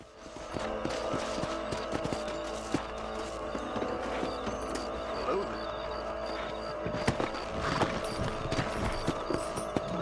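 Steady rhythmic clip-clop of horse hooves in the video game Red Dead Redemption, running under continuous speech and game dialogue.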